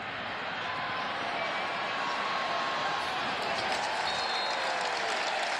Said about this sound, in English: And a cheer goes up as he's taken down at the 25.